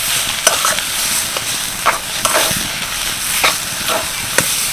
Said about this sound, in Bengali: এবার ভালো করে সব কিছু মিশিয়ে নেবো